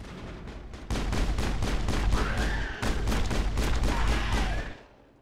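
Sustained gunfire from Mass Effect rattles in a dense, loud barrage, broken by one brief gap before resuming and then cutting off abruptly.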